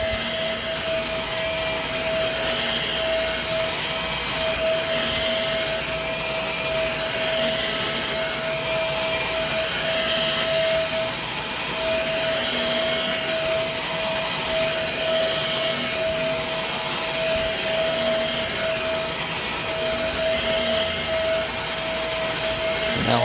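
A vacuum cleaner runs steadily while carpet is cleaned inside a commercial building, its loud motor whine holding a constant tone for the whole stretch without any talk.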